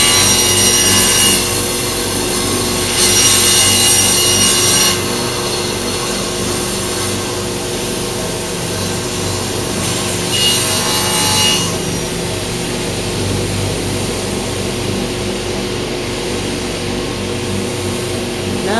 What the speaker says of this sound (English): Now I'm going to turn it over and cut it back through the other side.